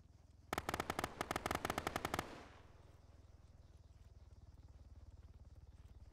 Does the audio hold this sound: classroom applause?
no